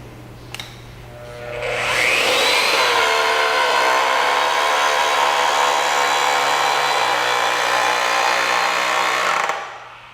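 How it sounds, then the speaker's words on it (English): AGP DB32 handheld digital pipe bender bending a pipe, a loud steady motor whine starting after a faint click and running evenly for about seven seconds before stopping, heard alone. "Press the trigger switch and hold until the pipe is bent to the desired angle."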